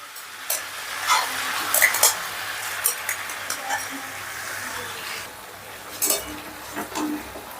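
Vegetables and soaked, drained basmati rice are stir-fried together in a pan for veg pulao, with repeated scraping and clinking of a spatula over a soft sizzle.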